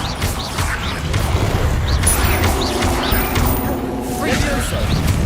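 Repeated Confringo blasting-spell explosions in the Hogwarts Legacy video game crash and boom in quick succession over busy game sounds, loud and close, with a voice heard over the action.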